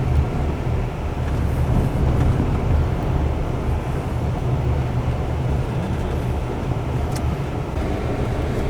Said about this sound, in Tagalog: ramdam mo talaga yung power ng makina niya.